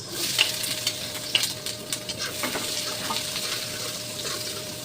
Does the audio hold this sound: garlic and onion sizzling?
yes